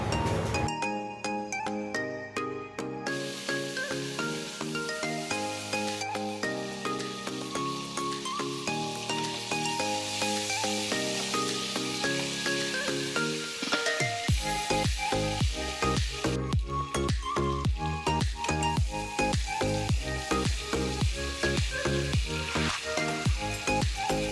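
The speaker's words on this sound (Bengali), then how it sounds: "তেল দিয়ে দেব আর মাছগুলোকে খুব ভালো করে ভেজে নেব" Tangra fish frying in hot oil hisses and crackles steadily beneath a loud melodic music track that plays throughout.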